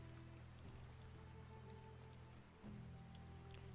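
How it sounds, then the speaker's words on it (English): Rain falling in the medieval survival game Medieval Dynasty, a steady soft hiss of drops over a low droning ambient bed, constant and even with a brief dip midway, no voices. "Oh, it's raining."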